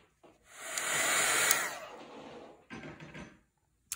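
A hair dryer blows over a wet watercolor painting, its steady whooshing airflow swelling loud for about two seconds, fading, then returning briefly before clicking off.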